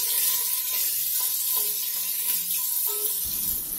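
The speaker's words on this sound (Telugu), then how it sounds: "ఉల్లిపాయ, పచ్చిమిరపకాయ బాగా ఫ్రై చేసుకోవాలి." Onions and green chillies fry in hot oil for a fried chicken biryani, a steady, close sizzling hiss that stays even throughout with faint clinks of stirring and no talking.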